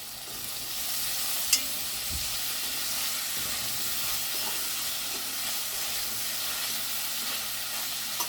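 Pot roast browning on fairly low heat in a cast iron Dutch oven, a steady soft sizzle and hiss of meat searing, continuous and close with a faint clink, no talking.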